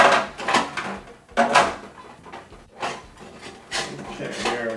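Plastic end housing of a Kempo twin-gear juicer being opened, with several short scraping, clicking bursts of handling, close and moderately loud, separated by brief pauses.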